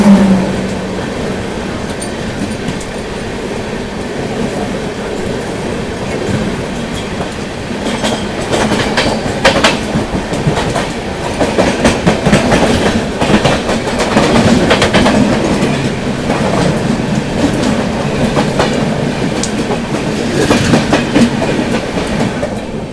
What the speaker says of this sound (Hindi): नई दिल्ली से चलकर दरभंगा की ओर जाने वाली बिहार संपर्क क्रांति सुपरफास्ट एक्सप्रेस